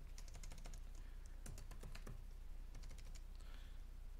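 Rapid typing on a computer keyboard while renaming an object in 3D software, bursts of crisp key clicks in quick clusters with short pauses, close and fairly quiet, no voices.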